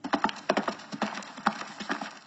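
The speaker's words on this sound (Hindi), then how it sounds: "मेरे कानों में आवाज पड़ी घोड़े के टापों की" Horse hooves clip-clop on a hard surface in a brisk, uneven series of sharp knocks, close and clear with no talking, over about two seconds.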